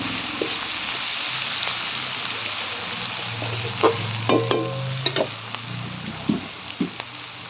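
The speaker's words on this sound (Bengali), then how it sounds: "পেঁয়াজগুলো এবারে ভেজে নেব লাল লাল।" Onions fry in a pan with a steady crackling sizzle, while stirring adds scraping strokes and scattered clinks of a spoon against metal throughout.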